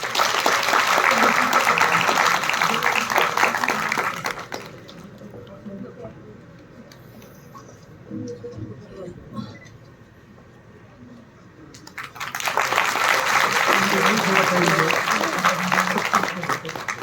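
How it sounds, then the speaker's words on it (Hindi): An audience at a school merit-awards event in Shimla claps for the school principal, loud sustained applause at the start, fading to a quieter stretch, then swelling again to full clapping near the end. "मैम के लिए भी तालियां बनती है।"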